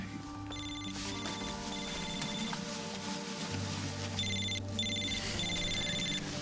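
Telephone ringing in a home, a repeated electronic ring in bursts over a low background hum, moderately close and with no talk.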